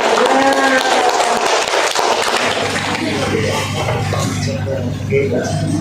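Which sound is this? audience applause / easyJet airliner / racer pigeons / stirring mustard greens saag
audience applause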